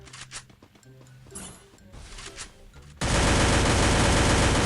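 Gunfire from a Free Fire 4v4 match starts as rapid, crackling bursts of shots, then abruptly becomes a loud, harsh, continuous roar of noise for the last stretch, with no voices.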